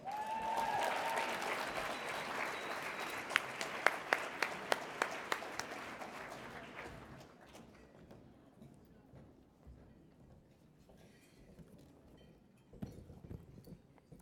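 An audience at a women's center gala applauds to welcome a speaker, a dense steady burst of clapping that peaks early, then thins and fades over several seconds, with a few louder claps and some faint voices near the end.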